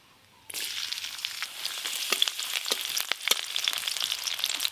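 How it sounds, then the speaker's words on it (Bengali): Chopped garlic drops into hot mustard oil tempered with black cumin, bursting into a sudden loud crackling sizzle that holds steady, with sharp spits and pops, close and alone. "সর্ষের তেল, কালো জিরে ফোড়ন করে নিয়েছি, এবার রসুন কুচি দিয়ে দেব।"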